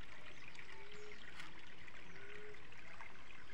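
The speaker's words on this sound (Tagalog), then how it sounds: "Ito yung kuweba guys na may dumadaloy na malinis na tubig." Clean spring water flowing and trickling inside a cave at Crystal Falls in Sta. Victoria, Ilagan City, Isabela, a soft continuous burble with faint splashes, heard close and alone.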